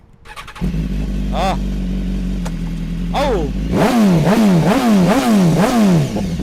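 A superbike motorcycle engine fires up and settles into a rumbling idle with a couple of blips, then revs hard in a rapid series of rising and falling throttle bursts, loud and close, with a brief exclamation from a voice.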